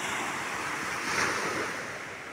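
Ocean waves breaking on a sandy beach at Nagbalayong, Morong, Bataan in the morning, a continuous broad wash of surf with wind noise over the microphone and a slight swell in the middle.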